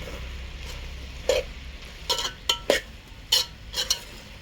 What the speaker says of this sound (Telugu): టమాటో ముక్కలు కూడా వేసి కాసేపు మగ్గనిద్దాం